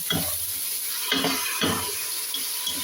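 A spoon scrapes and stirs bagoong (fermented shrimp paste) through pinakbet vegetables in a pot, with a few distinct stirring strokes over a soft steady sizzle.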